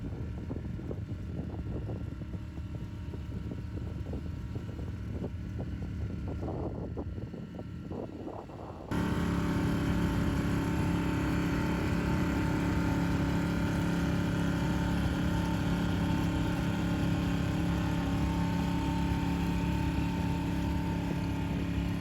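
A small outboard motor on a boat heading up the River Dart drones steadily and loudly close by, with wind buffeting the microphone; the engine note rises after a quieter opening stretch.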